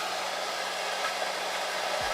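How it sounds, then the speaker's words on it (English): A blow dryer set to cool blows a steady, even rush of air along a wig's lace hairline, running continuously and close with no talking. "I'm going to put my blow dryer on cool and just run a little bit of air along my hairline"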